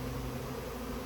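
Honey bees from a swarm buzz in a brief, continuous drone, a steady close hum with no voices over it.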